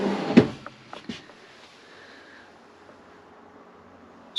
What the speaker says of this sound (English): your dedicated cutlery drawer and a drawer to the side